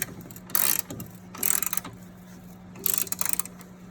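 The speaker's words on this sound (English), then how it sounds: "I'm gonna go ahead and tighten our nut. These are the 3 nuts on top of the strut mount." Close, crisp ratchet clicking in three short bursts as nuts on top of a car's front strut mount are tightened, with quiet pauses and a faint steady hum between.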